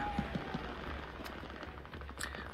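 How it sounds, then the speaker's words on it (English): Rapid gunfire from battles in the strategy game Realpolitiks crackles as a dense, continuous rattle of shots at moderate loudness, with a few sharper bursts standing out from the steady din. "the gunfire is getting a bit loud there"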